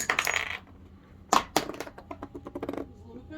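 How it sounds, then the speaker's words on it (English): Dice rolled during a 30 Years War board wargame clatter in a short burst, followed by a couple of sharp knocks and a trailing rattle as they settle, with a voice speaking at the start. "Let's give us a good luck Swedish dice."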